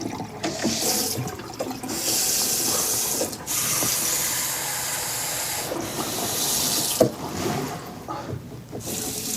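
Water runs from sink taps in a loud, steady hissing stream, cutting off briefly a few times as the taps are turned off and on again, close and without talk.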